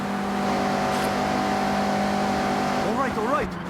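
Mazda MX-5 in the Forza Horizon 6 racing game, its engine holding a steady tone before a quick burst of rising, wavering revs near the end, with talking over it.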